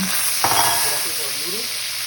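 Garlic and sweet Chinese sauteing wine hit hot oil for beef lo mein, a loud close hissing sizzle with a sharp flare at the moment of adding, sustained to the end.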